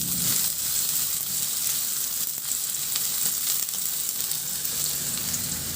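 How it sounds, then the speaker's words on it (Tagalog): Onion sautéing in a pan for chicken macaroni soup, a steady close hissing sizzle with faint stirring scrapes throughout, no speech. "Ilagay ko na rin yung sibuyas. Ihalo lang din hanggang sa maluto."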